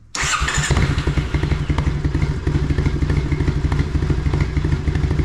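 A Triumph Bonneville motorcycle with its exhaust baffle partly removed idles loudly and close with a deep, throaty exhaust, its uneven lumpy pulses thumping steadily throughout with no voices.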